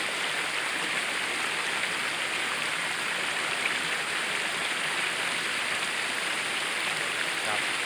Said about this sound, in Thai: เป็นน้ำตก